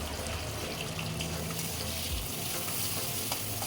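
Tomatoes with salt fry in a pan while being stirred, a steady close sizzle running throughout with soft scraping, for a prawn and jackfruit dish.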